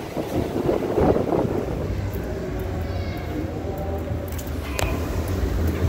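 Strong wind roars against the microphone in a constant low buffeting rush, with a few faint distant tones and clicks beneath it.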